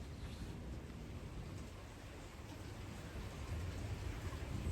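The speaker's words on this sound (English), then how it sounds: "It kept raining really hard, and now it had been at least a week of nonstop cloudy and rainy days." Heavy rain falls steadily and loudly throughout on a wet day in rural France, a dense unbroken hiss with no voices.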